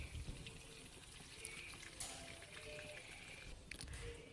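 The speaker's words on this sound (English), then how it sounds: "Now it's time to add water, but we only put hot boiling water" Hot boiling water pouring into a pan of meatballs, a soft, steady trickle with a few small splashes, fairly quiet.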